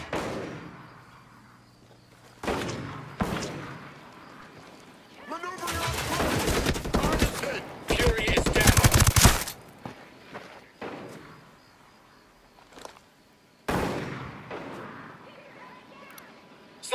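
Sniper gunfire in the tactical shooter Ghost Recon Breakpoint, sharp loud cracks and bursts around 6 to 9 seconds and again near 14 seconds, separated by quieter stretches of ambient game sound with a voice speaking at times.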